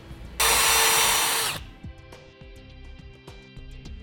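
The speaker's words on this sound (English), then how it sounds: "we'll step up drill bit sizes until we've reached a 1/2 inch." A loud power drill with a larger bit whirs steadily for about a second, drilling a car subframe, then winds down, followed by scattered light clicks and taps of tools.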